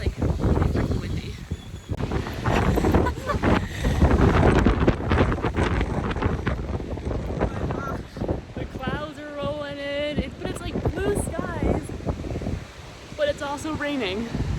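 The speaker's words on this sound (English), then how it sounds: "It's like windy this time of year, and it's like really freaking windy." Strong gusty wind, with rain, buffets the microphone in loud bursts while a person talks over it, in Costa Rica.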